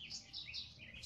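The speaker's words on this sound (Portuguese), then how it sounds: "E o passarinho cantando aí, um fundo musical maravilhoso." A small bird sings in the background in a short, thin run of high chirps and tweets, faint and distant, with no talk over it.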